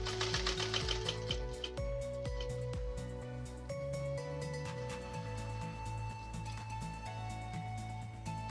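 Sewing machine stitching the padded top carry handle of a backpack, a steady close mechanical whir with rapid needle clatter running continuously and loudly throughout, nobody speaking.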